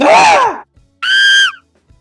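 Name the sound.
scream sound effect added in a Pictoblox cat-and-mouse game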